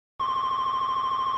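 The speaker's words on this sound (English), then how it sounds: "I landed on one of the sounds called Unsettling Opponent" The Unsettling Opponent sound from the Earthbound video game sound font, a steady bright electronic tone with a rapid pulsing flutter like a ringing telephone bell, beginning abruptly and holding for over a second.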